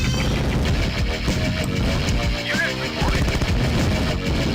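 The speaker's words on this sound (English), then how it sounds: "That's a rather beautiful sound there from what sounds like machine gun tanks." Machine gun tanks firing in Command and Conquer: rapid, rattling bursts of automatic fire layered with explosions and battle noise, loud and continuous across the short stretch.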